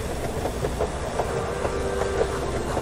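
A transport train in the Henry Stickmin video game rolls along its rails with a steady rumbling drone and faint rhythmic clacks, close and continuous throughout.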